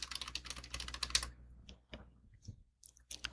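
A computer keyboard is typed on while terminal commands are entered to set up a Laravel project, with a quick run of soft, close key clicks, then a pause and a few scattered taps.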